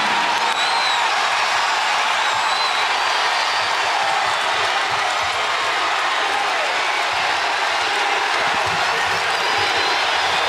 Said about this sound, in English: A frenzied crowd here in Memphis, the likes of which they haven't seen in a long time